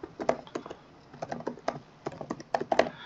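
Keys clatter on a computer keyboard as an email address and password are entered, a close, quiet run of irregular taps in short bursts with brief pauses.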